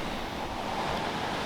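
Ocean waves wash steadily near the shore in Malibu, heard from beneath a waterfront facility as a close, continuous roar of surf with some wind noise and no talking.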